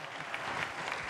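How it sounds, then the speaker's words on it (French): Audience applause at a live French-language talk show, a dense steady patter of clapping filling the whole short moment with no voices over it. "On va l'applaudir encore s'il vous plaît"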